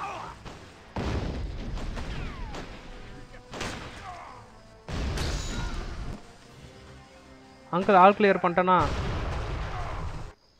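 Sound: bombs exploding in a video game

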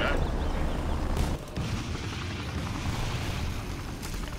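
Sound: artillery salvo in video game Rise of the Reds

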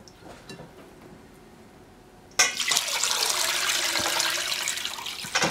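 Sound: rinsing rice with water

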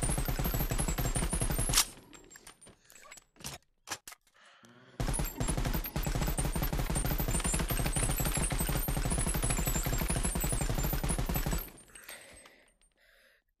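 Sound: BO3 Dingo machine gun firing in BONELAB video game

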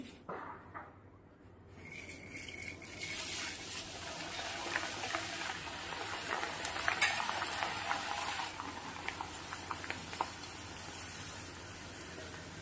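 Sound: beaten rice (poha) frying in hot oil

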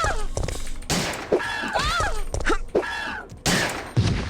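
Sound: pistol gunshots in video game Resident Evil 3

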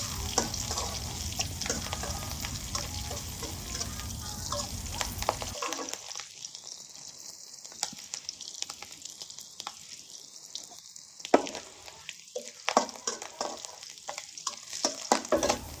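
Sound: stirring and frying bottle gourd with green chillies

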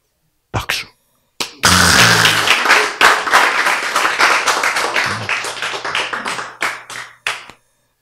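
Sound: audience clapping

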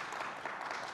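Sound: audience clapping

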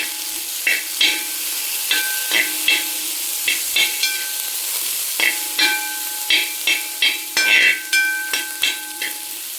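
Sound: stirring lentils and chillies in a pan

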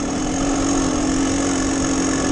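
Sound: two-stroke dirt bike engine running

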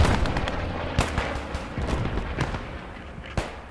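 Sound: grenade explosion in the video game Squad 44

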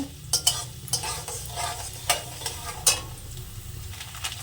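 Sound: coconut frying in a wok

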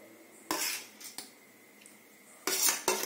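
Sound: tamarind pulp being added and mixed into rice on plate

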